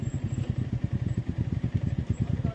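A motorcycle engine runs close by at low speed while arriving to park near Sonarpada dam, a steady rapid chugging pulse throughout with some rattle.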